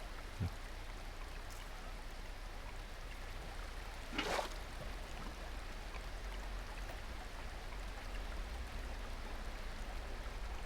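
Steady broadband wash of flowing water inside a Minecraft world, a continuous even rush with no clear breaks, plus one brief sharper splash-like burst near the middle.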